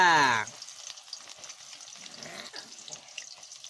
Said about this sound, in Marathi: आता याच्यात आपण कांदा परताय टाकणार आहे हे गेला कांदा